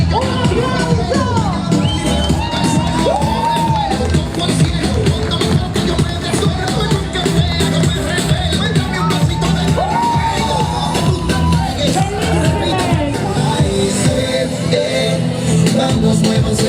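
A large crowd at a night carnival parade in Cavarzere cheers, whoops and shouts continuously, loud and close, with a voice calling out over the din.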